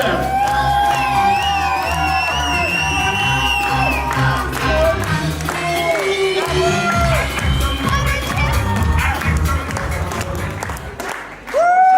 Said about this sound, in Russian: Громче, громче хлопаем!